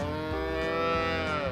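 Calves moo on a dairy farm in Georgia, one drawn-out, loud bawl filling the whole brief moment close by, with a strong harmonic tone and no talking.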